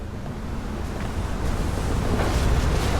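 A dam breaking in Outer Wilds sends a broad, rushing roar of water that builds in loudness over a few seconds, dense and turbulent like heavy surf.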